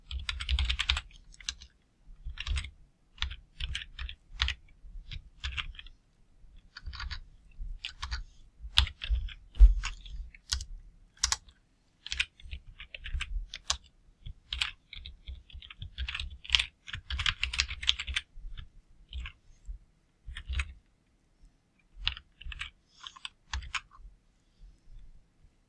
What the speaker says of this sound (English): typing in the code.